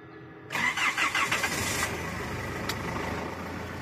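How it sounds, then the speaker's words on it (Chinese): A diesel vehicle's engine, already warmed to about 50 degrees in a cold high-altitude winter, starts without preheating: a short cranking stutter of several pulses, then it catches and settles into a steady, loud idle. "咱们打火就是不用预热的那种打火试试啊"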